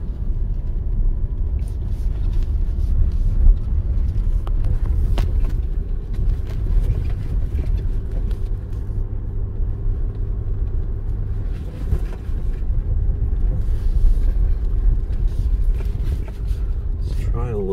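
A 2022 Toyota RAV4 Hybrid driving on beach sand at Oceano Dunes in second gear manual, trail mode on, traction control off: a steady low engine and tyre rumble that is continuous and close.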